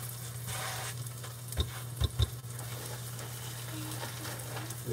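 Sausages fry in a pan with a steady, fairly quiet sizzle, broken by a few soft knocks and clicks, with no talk over it.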